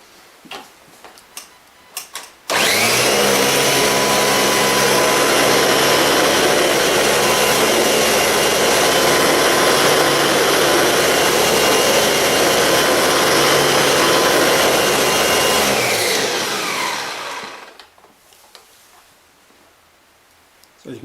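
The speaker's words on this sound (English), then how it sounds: "I'll just go 6 more passes and just try and get most of this salt up" A Kirby G4 vacuum cleaner roars loud and steady for about thirteen seconds as it makes passes over carpet picking up scattered salt, starting abruptly and winding down at the end, with quieter handling noises before and after.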